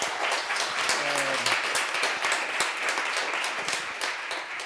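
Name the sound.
audience applause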